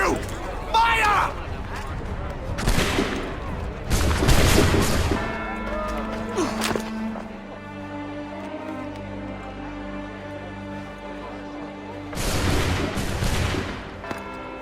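A musket volley in Assassin's Creed III, heard as a few loud, booming gunshot blasts in separate bursts around a spoken cutscene with shouting voices and a quieter stretch of music in between.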